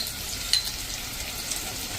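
Gram flour and spices cook in oil as a thickener for gravy, giving a brief, steady soft sizzle heard up close, with a small clink partway through.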